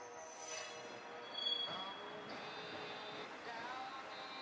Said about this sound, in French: Et voici ce magnifique petit train vêtu de bleu, blanc, rouge